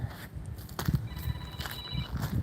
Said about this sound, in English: It's my phone's ringing.